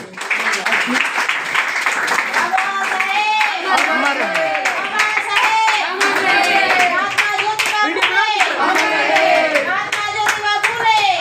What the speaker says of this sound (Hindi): थोड़ी ही तालियां ही बजाते रहो।